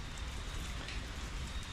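Heavy tropical rain pours in Thailand, a brief dense hiss of drops hammering surfaces, steady and enveloping with a low rumbling undertone and no voices.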